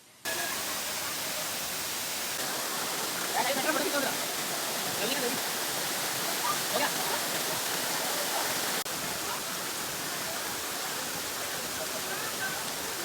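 Steady broadband roar of a waterfall, loud and continuous throughout, with faint voices briefly audible beneath the rushing water.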